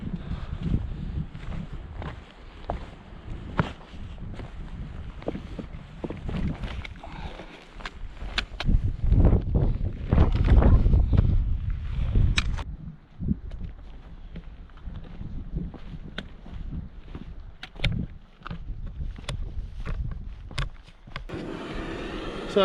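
Strong gusts of wind roar and buffet across a Scottish mountain ridge, swelling loud midway then easing, with rustling and thuds from walkers.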